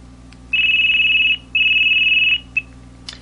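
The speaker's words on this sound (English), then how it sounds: "loud beeps" An LG Octane VN530 phone sounds its loud beeps alert tone, two long buzzing high-pitched bursts in quick succession followed by a short blip, loud and close with nothing else audible.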